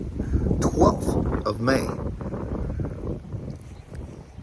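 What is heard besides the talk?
wind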